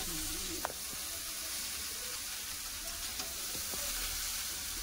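Cauliflower frying with spices in a pan, a steady soft sizzle running throughout with a few faint clicks of stirring, moderately close and quiet, no voices.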